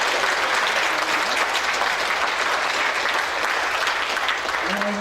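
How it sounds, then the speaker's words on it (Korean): A church congregation applauding together during a Sunday service, steady dense clapping sustained for several seconds from a crowd filling the room. "우리 한번 감사의 박수를 이 주일날 한 번 더 드리면 어떨까요?"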